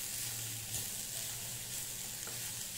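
Vegetables sautéed with spices for momo filling, a steady, fairly quiet frying hiss with a faint low hum running beneath it and no distinct stirring strokes.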